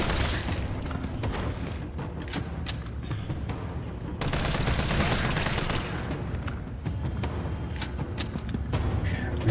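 Rapid gunfire from the Resident Evil 3 video game, dense bursts of shots and booms over a busy game soundscape, fairly loud and continuous with no talk.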